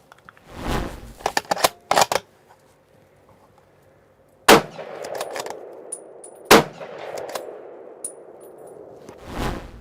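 A .308 hunting rifle fires several sharp, loud shots spaced a few seconds apart, each followed by metallic clanks of the bolt being cycled, heard outdoors without talk.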